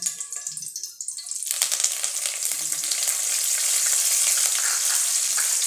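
Curry leaves drop into two spoons of hot oil for poha. After a moment of quiet, a sudden loud, crackling sizzle erupts and settles into a steady spattering hiss.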